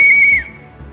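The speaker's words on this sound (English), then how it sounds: "Andy, you go on my first whistle." A referee's whistle blows once, sharp and loud, to start a gaming challenge, a steady shrill tone lasting under half a second that then drops away.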